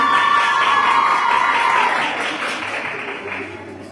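A crowd claps for a graduating student at an institute anniversary ceremony, loud at first with a few faint cheers, then gradually fading over about four seconds.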